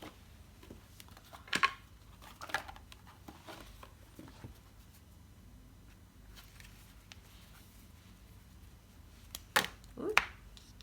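Oracle cards are handled and shuffled in a quiet room, giving a few soft papery riffles and taps separated by long near-silent gaps.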